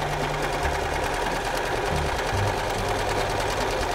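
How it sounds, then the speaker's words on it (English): A sewing machine runs a tight zigzag stitch that joins a nylon strap to a fabric cone for a drogue. A loud, steady, close mechanical whir with rapid rhythmic needle ticking runs without a break. "you wanna make sure that you're set to do a zigzag stitch with fairly tight stitching so that you get a lot of stitches on"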